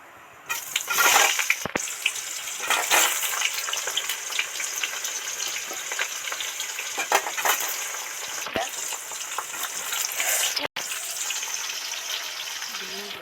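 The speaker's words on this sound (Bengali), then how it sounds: "তেল তো গরম হয়ে গেছে পটলটা তেলের মধ্যে দিয়ে দেবো" Pointed gourd hits hot oil with a little salt, bursting into a loud, rushing sizzle that settles into steady frying with crackles and a brief clatter.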